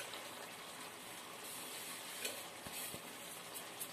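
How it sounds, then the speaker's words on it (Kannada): Masala and sambar powders being stirred into an apple and tomato gravy with oil floating on top, a soft continuous sizzle with a few faint scraping knocks of a spoon against the pot. "ಹಾಕ್ಬಿಟ್ಟು ಚೆನ್ನಾಗಿ ಮಿಕ್ಸ್ ಮಾಡಬೇಕು"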